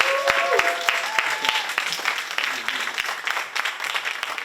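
Audience applause at a French acting masterclass event, a crowd of steady claps with several sharp individual claps close by and brief voices mixed in.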